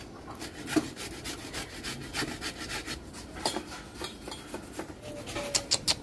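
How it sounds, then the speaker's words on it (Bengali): Raw green mango grated by hand in a home kitchen for a tangy mango drink, giving close, repeated rasping strokes in an uneven rhythm with a few sharper scrapes and no talk. "আমি গ্রেট করতেছি"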